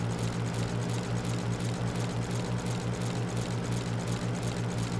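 Tractor cutting grass with a mower in Farming Simulator 25, a steady low engine drone with a rhythmic pulsing hum, continuous and even throughout without any talking.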